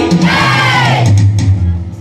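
A large crowd at a Ramayana devotional gathering roars a call in unison, a loud, dense wall of massed voices that swells briefly and then fades.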